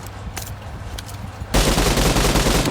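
Automatic gunfire in the game PUBG, first lighter rapid shots then a sudden loud, dense burst of continuous firing for the last second.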